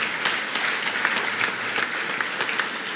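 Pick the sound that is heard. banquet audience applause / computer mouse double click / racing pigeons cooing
banquet audience applause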